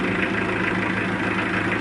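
A car engine idles steadily with a low, even rumble and slight vibration, close and continuous throughout with no voices.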